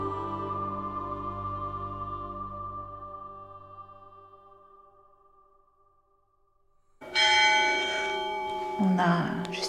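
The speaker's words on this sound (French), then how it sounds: "On a justement ces cloches qui résonnent." Church bells in a monastery ring out with a long, resonant decay that fades to near silence, then a louder burst of bell tones returns, close and ringing freely.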